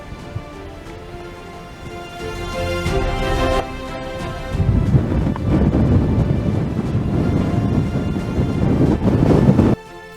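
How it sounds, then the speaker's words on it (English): Strong wind buffets the microphone on the Rax Alp mountain, a loud broadband rush that swells after a few seconds and stays steady before cutting off abruptly at the end. "when the wind gets up here, it's not messing about"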